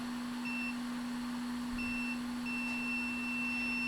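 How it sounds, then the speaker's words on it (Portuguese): A multimeter in continuity mode beeps as its probes touch a shorted capacitor, giving three short, steady electronic tones with a constant low hum beneath and no talking. "eu coloco uma ponteira de cada lado e ele não pode bipar. Se ele bipar, ele está em curto"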